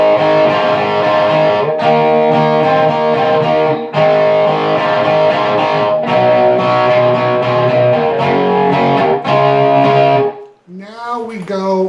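Distorted electric guitar plays a shortened chorus of a song as a steady, loud chord riff with brief pauses, ending on a few bent notes that trail off.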